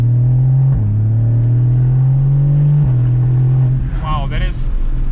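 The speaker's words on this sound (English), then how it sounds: "This exhaust sounds so good." Porsche Cayman S 981 with its boxer engine and PDK gearbox accelerating, a loud steady exhaust drone heard from inside the car, briefly dipping at gear shifts, with a voice speaking near the end.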